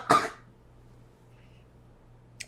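A man gives one short, sharp cough close to the microphone, trying to dislodge a hair stuck at the back of his throat, followed by near silence with a faint low hum and a tiny click at the end.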